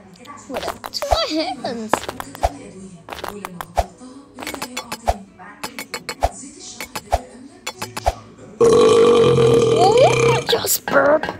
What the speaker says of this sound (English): Just burp.